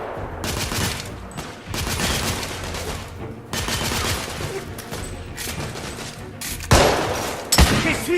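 Dense gunfire from the video game The Order: 1886 rattles in continuous bursts with heavy booms, loud and close throughout, with two sharp blasts near the end.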